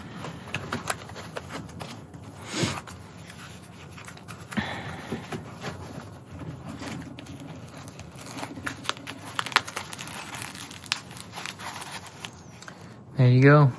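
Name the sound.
folding and rolling up black nylon tool roll pouch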